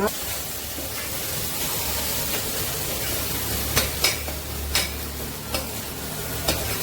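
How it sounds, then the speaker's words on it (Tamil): Ginger garlic paste sizzles steadily in a hot pan while being stirred for an Andhra-style fish gravy, with a few sharp scraping clinks near the end; a voice speaks faintly underneath. "இப்போ இதில் இஞ்சி பூண்டு பேஸ்ட்டு கொஞ்சம் தாராளமாக போட்டுக்கோங்க."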